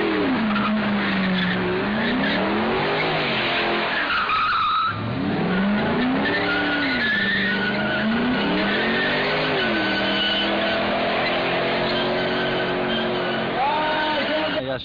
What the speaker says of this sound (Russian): вот те незаконные гонки, которые у нас проводятся в Чеченской республике